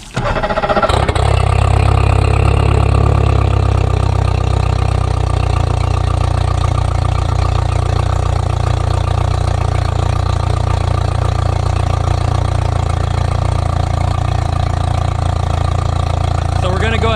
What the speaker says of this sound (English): go ahead and turn on the water, and you can start up that motor.